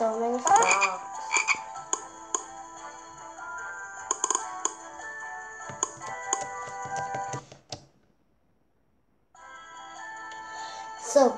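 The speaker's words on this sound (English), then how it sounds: "There's so many frogs." Frogs croak loudly in a dense, overlapping chorus of rhythmic calls, broken by a brief silence near the end before resuming.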